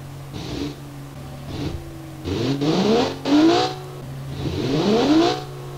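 A 700 horsepower luxury sedan engine in BeamNG revs up repeatedly, rising in pitch with each burst and hitting the rev limiter, loud and close, over a steady low drone.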